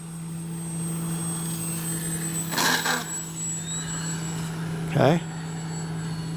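An FMS Ranger RC model airplane with a propeller engine drones steadily throughout, a constant mid-distance buzz with a brief short word spoken over it.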